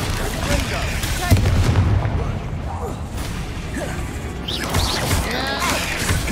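The Bombarda explosion spell in the video game Hogwarts Legacy sets off loud, crashing booms and rumbling impacts with mechanical clatter. Spoken voices come through over the chaotic battle noise.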